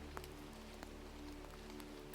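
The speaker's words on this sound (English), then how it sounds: "catching the rain," Rain falling in a forest among beech seedlings: a steady soft patter with scattered sharper drops, even and gentle throughout, no voices.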